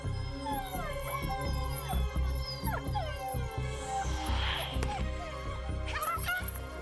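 Cartoon dogs whimper, yip and howl in a rapid string of whiny cries, close and busy, with some voice and music mixed underneath.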